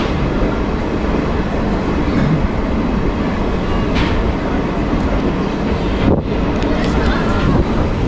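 A train pulls away from a station in Kolkata, bound for NJP, with a loud, continuous rumble and rolling rail noise close by, and some wind buffeting against the microphone.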